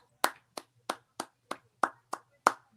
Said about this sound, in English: I was clapping Chelsea